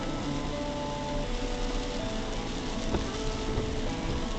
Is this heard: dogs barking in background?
no